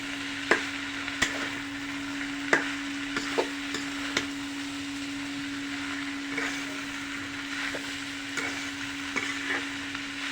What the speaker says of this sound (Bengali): আরও নেড়ে চেড়ে রান্না করে নেবে বন্ধুরা